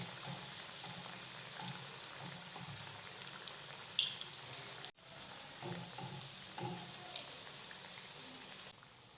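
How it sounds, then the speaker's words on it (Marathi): Alu vadi, rolled colocasia leaf slices, fry in hot oil over a low to medium flame with a steady, faint sizzle, broken by a single sharp click and a brief dropout midway. "वड्या तळण्यासाठी इथं मी तेल गरम करत ठेवलेलं आहे तेल गरम झालेलं आहे तर आता आपण वड्या तळून घेऊयात"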